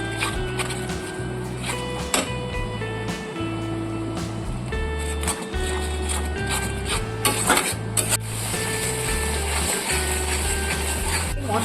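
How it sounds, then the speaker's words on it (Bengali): Spice masala for a yogurt egg curry stir-fried in a pan, a steady scraping of the spatula against the pan with rhythmic rubbing strokes, loud and close throughout, with no talking. "আরো ভালো করে কষিয়ে নেব।"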